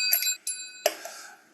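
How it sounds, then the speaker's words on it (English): Low and high percussion bells from a washboard player's kit ring out in three clear metallic strikes, each leaving a bright, sustained shimmer that overlaps the next. "I have the low bell and the high bell"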